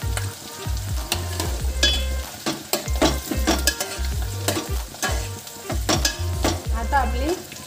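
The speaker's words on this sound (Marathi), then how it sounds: "त्याच्यात कांदा पण टाकून घेऊ आणि थोडा फ्राय करून घेऊ." Onion frying in a pan with capsicum for restaurant-style chilli chicken, a steady close sizzle with repeated stirring scrapes and clinks of a utensil against the pan, no talking.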